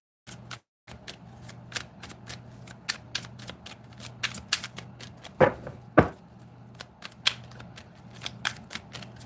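Tarot cards are shuffled by hand in a rapid run of crisp riffling snaps and flicks, close and fairly loud, with a couple of sharper slaps partway through and no talking.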